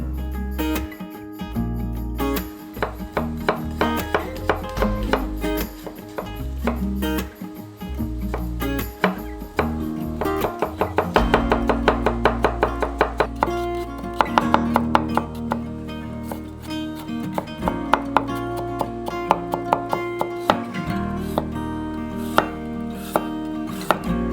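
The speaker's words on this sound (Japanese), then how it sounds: "ニンニクの香りをたっぷりと出したい方は細かくみじん切りに、そうじゃない場合は厚めにスライスするのがおすすめです" Garlic chopped with a knife on a board, a long run of crisp, rhythmic tapping chops, close and steady, with brief pauses between bursts, and soft background music beneath.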